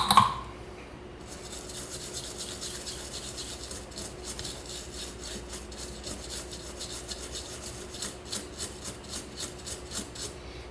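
Solder residue is scrubbed off a Samsung A01 phone circuit board during a backlight repair, giving a steady raspy brushing that grows into quick rhythmic back-and-forth strokes, close up and moderately loud with no talking.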